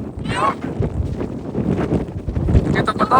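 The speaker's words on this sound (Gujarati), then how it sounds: "પવન યાર ઉડીએ છે કે નહીં આપણે" Steady gusting wind roars across the microphone on a hilltop in the Peak District in cold weather, with people talking faintly underneath throughout.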